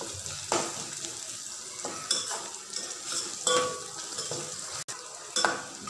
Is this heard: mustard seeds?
yes